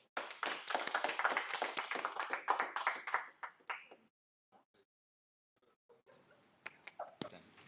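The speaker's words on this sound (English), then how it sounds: "I'm clapping for myself." A person clapping hands in a room, a quick rhythmic burst of close claps for about four seconds, then near silence with a few scattered taps and faint voices.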